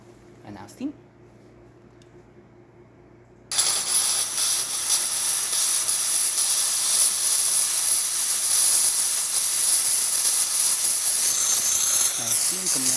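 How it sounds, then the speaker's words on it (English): A DeLonghi La Specialista espresso machine's steam wand bursts into a loud, continuous hiss after a quiet start and keeps roaring steadily to the end, with brief talk under it. "Nice steam coming out of the machine."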